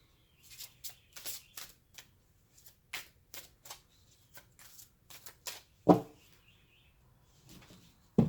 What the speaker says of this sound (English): Don't believe I shuffled this one yet.